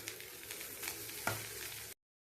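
Cooked rice for egg rice stirred and mixed in a hot pan, a short, quiet sizzle with a couple of spoon scrapes, close and without talk.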